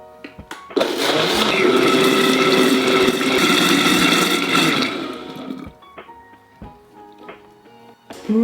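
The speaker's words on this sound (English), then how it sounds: "then we're going to puree it until it's smooth" A blender purees chia, cumin, water and lime juice for a raw vegan tostada mixture, with a loud steady whir that runs about four seconds before cutting off. Quieter clinks and handling noises follow.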